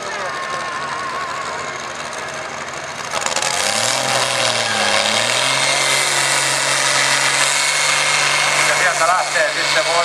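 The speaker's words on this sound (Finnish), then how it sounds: "lähtee sitten Voisio pistää vähän kierroksia koneeseen." A pulling tractor at the Kouvola Power Pulling event revs its engine, starting as a background drone and then swelling to a loud, sustained roar with rising and falling pitch. A commentator talks over it through a PA.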